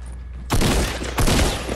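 Gunfire in Fortnite comes in two loud, close bursts of rapid shots, each cutting in sharply and trailing off, with quiet game ambience before the first.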